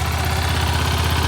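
A Yamaha SRX 400 motorcycle engine idles steadily with a muffled, low pulsing exhaust beat through a large collector box, close and continuous without pause.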